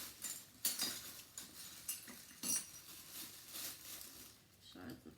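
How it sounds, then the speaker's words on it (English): Shards of glass clink inside a fairly big jar, with sporadic light chinks and rattles, close and soft, while a voice is faintly present in the background. "Shards of glass to separate them"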